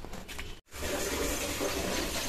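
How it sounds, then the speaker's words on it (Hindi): Water pours steadily into a tank with a continuous rushing splash, broken by one brief cut near the start, then flowing evenly on. "तो पानी भर रहा है"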